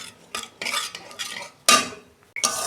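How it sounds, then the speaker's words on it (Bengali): Spice masala stirred with beaten sour yogurt in a pan: close, uneven bursts of metal spoon scraping and clinking against the pan, separated by short pauses, with no voices. "টক দই দিয়ে আমি বাটি ধোয়া জল দিয়েছি, দিয়ে আমি ভালো করে কষতে নেব আর 2 মিনিট"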